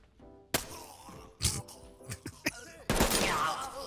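Gunfire bursts in the tactical shooter Ready or Not: a sharp shot, then several scattered cracks and thuds, ending in a dense, sustained volley, loud and close with faint voices in between.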